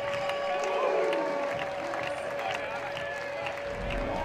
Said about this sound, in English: The home crowd now, they have something to cheer about.